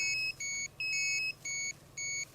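Repeated high electronic beeping from a radiation detector alarm in the Chernobyl zone, short pulses, several tones sounding together in a steady on-off rhythm, faint and alone.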